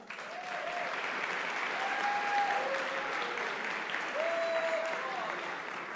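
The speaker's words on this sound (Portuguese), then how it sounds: "Uma salva de palmas." A church congregation claps steadily for several seconds in a dense, even wash of applause from a large crowd. A voice can be heard faintly through the clapping.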